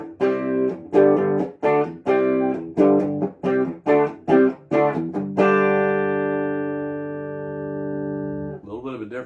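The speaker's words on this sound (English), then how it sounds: "So here goes the clean tone through the Gibson. Okay, bridge pickup." Clean-tone electric guitar through a Gibson Les Paul on the bridge pickup, a series of bright, closely miked strummed chords ending in a long ringing chord that fades.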